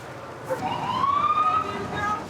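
An ambulance siren wails at a distance, a faint rising-and-falling tone that grows slightly clearer as it approaches, under low background noise.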